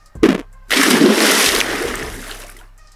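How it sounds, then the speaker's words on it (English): A water splash sound effect plays in a Scratch animation of a Squid Game red light, green light scene: a short sharp splat, then a loud, broad watery wash that fades over about two seconds. "so that's the sound effect the splash sound"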